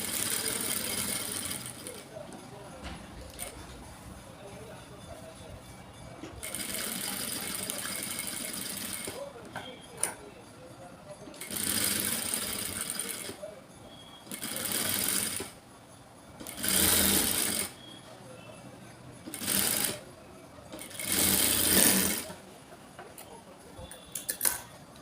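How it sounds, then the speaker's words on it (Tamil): A sewing machine stitching blouse fabric runs in a series of loud bursts of rapid whirring stitches, some long and some short, separated by pauses, with someone talking in between. "வளைவு வரும்போது கொஞ்சம் ரொம்ப ஸ்பீடாக போகாமல் மெதுவாகவே தையல் போட்டுக்கலாம்."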